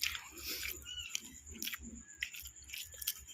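Crunchy fried kangkong chips chewed close up, a steady run of crisp crunches and bites repeating for a few seconds with no talking.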